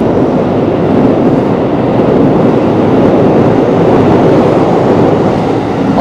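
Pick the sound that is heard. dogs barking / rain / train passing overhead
train passing overhead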